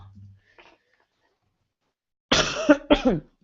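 A faint murmur at the start, then silence, followed by two loud, close, harsh coughs in quick succession.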